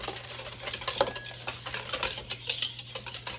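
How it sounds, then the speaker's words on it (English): Sour cream, eggs and cream style corn mixed by hand in a bowl, a steady run of soft wet scraping and light clinking strokes, close up, with no talking. "The cream style corn in there. Mix that up in there."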